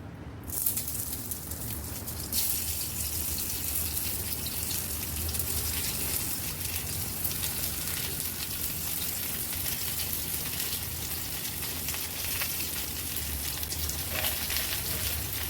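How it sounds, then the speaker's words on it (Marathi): Stuffed bitter gourd, filled with masala, fries in a little oil on a hot tawa, giving a steady, dense sizzle that runs continuously at a fairly loud level with no talking. "थोड्या तेलामध्ये आपल्याला फ्राय करायचं आहे"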